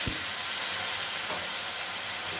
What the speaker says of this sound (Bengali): এবারে খুব ভালো করে মশলাটা কষাবো সামান্য দু চামচ মতন জল দিয়ে দিই